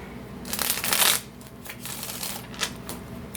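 Tarot cards being shuffled from a deck, a dense rustling riffle for about a second, then lighter flicks and soft card taps scattered through the rest, close and fairly quiet with no talk.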